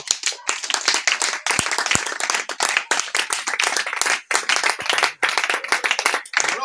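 A church congregation in Garoua, Cameroon claps loudly and steadily in praise of Jesus, a dense run of hand claps with a few short dips.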